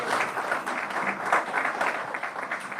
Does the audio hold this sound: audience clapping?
yes